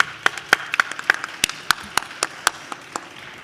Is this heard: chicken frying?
no